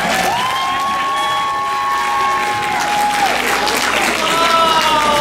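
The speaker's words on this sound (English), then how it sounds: "Give him a round of applause." Audience applause and cheering for a contestant at a college pageant, loud and continuous. Tonal music plays along with the clapping, and a few shouts rise from the crowd.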